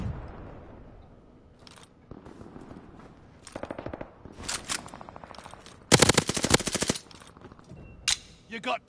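Automatic gunfire with recoil in the Call of Duty Vanguard shooter comes as several close, loud rapid bursts of varying length, the longest near the middle, with brief pauses between them.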